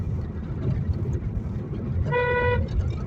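A car horn gives one short honk near the end during a driving lesson at a Khulna driving school, heard over steady engine and road noise.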